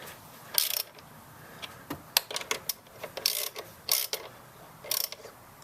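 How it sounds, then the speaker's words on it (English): Intake mounting bolts on a Toyota Tundra being tightened with a ratchet wrench, a close series of quick clicking ratchet bursts and metallic ticks in irregular spurts. "And then we'll come after it with a wrench."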